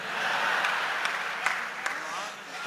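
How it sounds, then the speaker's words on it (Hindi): At a poetry gathering, an audience breaks into applause to welcome a poet on stage, a broad wash of clapping that swells early and then slowly tapers with a few louder claps standing out. "आपकी तालियां जोरदार हो ताकि हम उसे सुन सकें"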